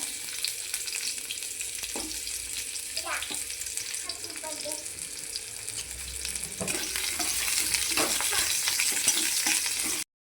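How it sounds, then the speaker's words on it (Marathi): Chopped onion sizzles and crackles in hot oil in a pan, a faint steady fry with occasional stirring scrapes, growing somewhat louder toward the end. "तेल गरम झालं की कांदा टाकून घ्यायचा"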